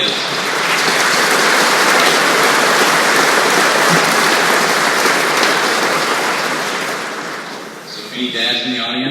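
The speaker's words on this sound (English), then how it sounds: "round of applause for my kids" An audience at an Air Refueling Wing change of command ceremony breaks into sustained applause, a dense, loud wash of clapping that fades slightly near the end as a voice begins to speak.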